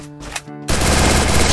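Rapid automatic gunfire in the Free Fire mobile shooter erupts after a brief tonal lead-in and continues as a loud, dense, unbroken burst to the end.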